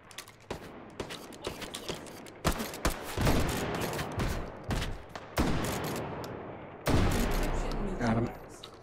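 Gunfire in the VR shooter Hot Dogs, Horseshoes & Hand Grenades on a Wurst War II custom map: close, loud volleys of sharp cracks and rapid bursts, some single shots, repeating throughout with short gaps.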